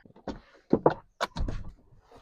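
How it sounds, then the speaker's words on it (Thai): The door of an Isuzu MU-X 3.0 Ultimate 2WD being opened, with a short run of close latch clicks and solid thunks followed by quieter rattles. "เปิดประตูมา"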